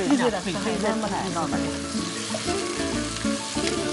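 Marinated mutton sizzles and fries loudly in a hot pan for rezala, a continuous close crackle and hiss with stirring, and music playing underneath.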